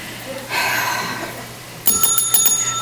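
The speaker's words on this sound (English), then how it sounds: "Why did you ring that bell?" A bell rung on stage at a community variety show, a quick series of bright metallic rings near the end, close and clear, following a brief murmur of voices.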